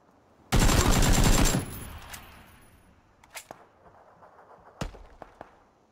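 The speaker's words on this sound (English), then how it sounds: "What else is shooting?" Automatic gunfire in the PlayerUnknown's Battlegrounds video game, a loud rapid burst of about a second followed by a few scattered sharper single shots farther off.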